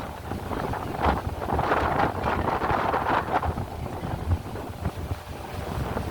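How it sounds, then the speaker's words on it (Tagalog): Strong wind in rainy weather in Singapore buffets the microphone in heavy, rumbling gusts that swell and fade continuously, with no voices. "Lakas ng hangin."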